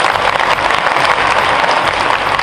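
Loud, dense clapping fills a school function as the audience welcomes students, a continuous close-up wash of hands with no voices heard.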